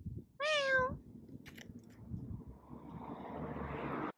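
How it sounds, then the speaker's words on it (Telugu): A fluffy cat on a street in Dundee gives one clear, drawn-out meow up close, followed by quiet shuffling and a rising background rumble like a passing aircraft. "మేము వెళ్తుంటే మాకు దారిలోని ఈ బూరుగున్న పిల్లి కనిపించింది."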